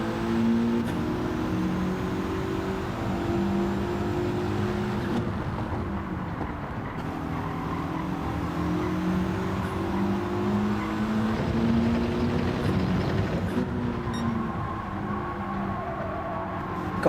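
Race car engines in Gran Turismo 7 drone steadily and loudly throughout, pitch rising and falling through gear changes as cars run in close company, with faint tyre noise.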